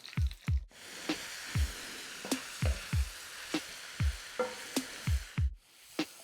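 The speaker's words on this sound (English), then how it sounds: "My onions now have been cooking for around about 5 or 6 minutes, and they've gone a nice golden colour." Onions browning in a hot wok, sizzling steadily while a utensil stirs and scrapes them in a series of repeated, close strokes.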